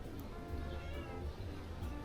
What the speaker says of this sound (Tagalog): Dito lang yung ating alagang pusa. Naamoy na nila yung daing.